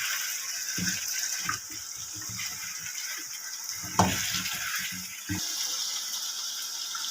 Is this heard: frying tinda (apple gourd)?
yes